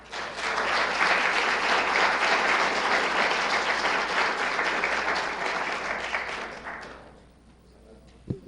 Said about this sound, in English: another round of applause for our future scientists